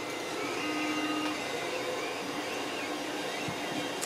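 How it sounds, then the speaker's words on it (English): A Creality CR-10 3D printer runs through a print of a Voyager starship model, giving a steady, moderately quiet mechanical hum with faint stepper whine and a few small ticks throughout. "So this is the Voyager I'm printing now for the CR-10."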